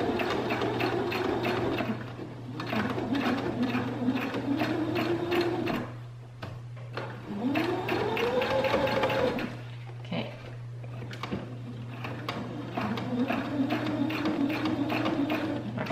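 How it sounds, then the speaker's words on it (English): A sewing machine stitches over a seam in bursts of rapid mechanical whirring, a few seconds on and brief pauses between, close and clear over a steady low hum. "when you get over the seam, that's a lot for your sewing machine sometimes"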